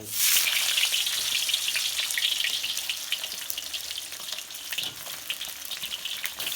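Red-tailed fish fries in hot oil in a pan, giving a loud, close, continuous sizzle and crackle that flares as the fish goes in, then steadies.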